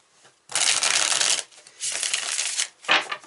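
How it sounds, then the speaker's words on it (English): A deck of tarot cards is shuffled close up in three bursts of crisp riffling and slapping, separated by brief pauses, with no voice over it. "More shuffling, more shuffling."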